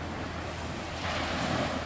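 Gentle sea surf washes steadily onto a beach on a calm morning, a soft continuous hiss with a slight swell in the second half, mixed with light wind noise on the microphone and no voices.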